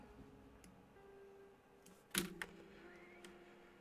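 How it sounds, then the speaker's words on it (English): A hand accidentally smacks a computer keyboard and mouse, one sharp clattering knock followed by a smaller rattle, amid faint scattered clicks in a quiet room with no talk. "I accidentally smacked my fucking keyboard and mouse"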